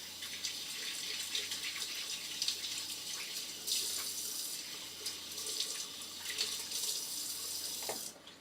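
Tap water runs steadily into a kitchen sink while bell peppers are rinsed, a close, even rushing splash that shifts slightly in tone as the stream hits the produce, then cuts off near the end.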